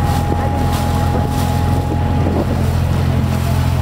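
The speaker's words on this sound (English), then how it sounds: "Safwan enjoying the wind" Steady wind roars across the microphone during a cheap boat ride, a constant loud rush with engine and water noise beneath, no voices.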